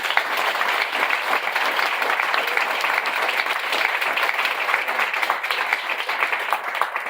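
An audience applauds the speakers of a native forest futures panel, a steady, dense wash of many hands clapping together for several seconds with no break.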